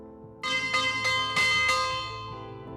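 A bell in the Agatha Christie Death on the Nile game rings about five times in an even rhythm, each strike bright and resonant, the tone fading slowly at the end.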